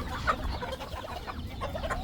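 Backyard chickens cluck in soft, scattered bursts at moderate distance, several birds overlapping in an uneven rhythm with no voices.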